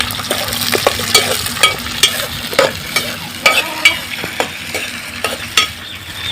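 Bitter gourd with ginger garlic paste fries in a pan for a chicken dish, with a constant loud sizzle broken by regular scraping stir strokes about every half second.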